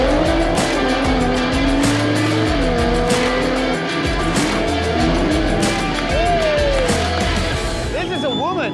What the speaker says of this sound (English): Got another R35 pulling up.